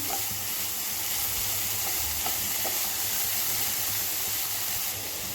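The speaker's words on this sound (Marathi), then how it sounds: "व्यवस्थित असं मिक्स करून घ्यायचं" Spinach bhaji with crushed chilli thecha being stirred over a high flame in a hot pan, giving a continuous loud sizzle and hiss with a few faint scraping clicks throughout.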